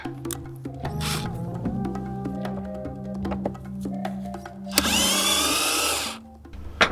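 A power tool whirs in short bursts as hinges and a padlock come off a hatch down to the forecastle aboard the ship HMS Pickle, with metal clanks and taps between runs and one long loud bursting whine near the end.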